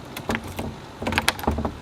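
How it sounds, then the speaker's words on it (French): A safari vehicle door is shut and locked at a camp in Kruger National Park, with a string of close knocks, clunks and latch clicks spread unevenly over a couple of seconds. "on barre la porte"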